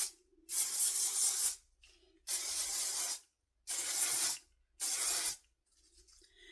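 Makeup setting spray, shaken first and misted onto a face from a short distance, gives four close, loud hissing bursts of about a second each, separated by brief pauses, with no talking.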